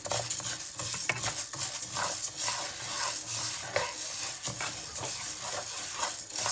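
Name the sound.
urad dal being dry-roasted in a pan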